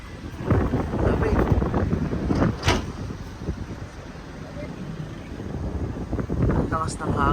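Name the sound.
strong wind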